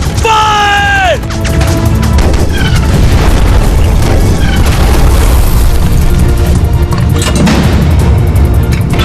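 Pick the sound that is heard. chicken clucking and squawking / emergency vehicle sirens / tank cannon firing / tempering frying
tank cannon firing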